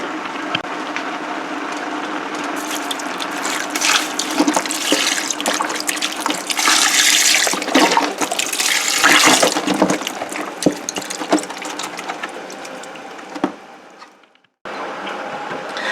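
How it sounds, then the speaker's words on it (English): Four cups of low-sodium vegetable broth pour into a pot in a kitchen: a loud, continuous splashing gush that builds over about fourteen seconds, stops briefly, then picks up again. "now we are going to add 4 cups of the low sodium vegetable broth"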